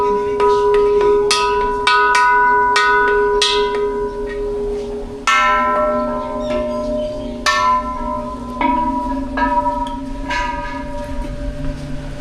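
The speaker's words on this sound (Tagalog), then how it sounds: "Sabi ni Globy, magbe-bell daw for good luck." A bell rung for good luck at a site in Thailand sounds as a series of bright metallic strikes, each ringing out with a long shimmering decay, repeated roughly every second or two over steady outdoor background noise.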